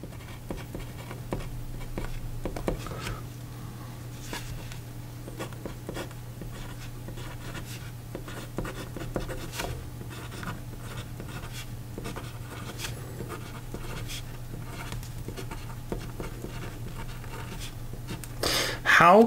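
A fountain pen with a fine nib scratches across paper in a writing sample, producing soft, steady scribbling strokes throughout with a low constant hum beneath and a louder rustle at the very end.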